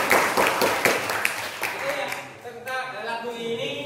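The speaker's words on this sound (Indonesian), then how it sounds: "Oke, tepuk tangan juga." Classroom students clapping during a history lesson, a burst of quick overlapping handclaps at close range that fades as voices and singing take over.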